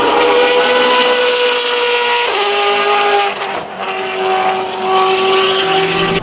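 A DTM touring race car at the Nurburgring roars loudly and continuously, its engine note rising and dropping through gear changes, with a brief dip midway before revving hard again.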